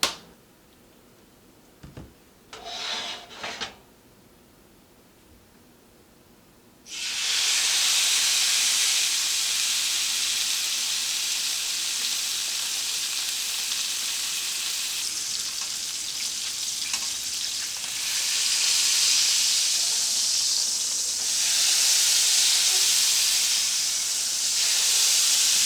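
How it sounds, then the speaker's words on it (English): A bacon-wrapped stuffed turkey roll sears in a hot pan with a loud, steady sizzle and hiss that bursts in after a few quiet seconds and keeps going, swelling slightly as the roll is rocked to brown every side. "Let's sear away."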